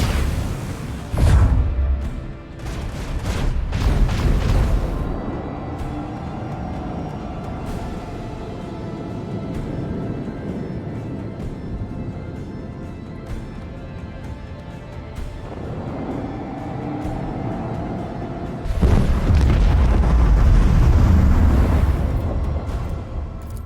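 Torpedoes launching and detonating in Warhammer 40k: Rogue Trader, a space naval battle: loud rumbling booms cluster at the start, a long low droning hum follows, then another heavy, sustained roar of blasts near the end.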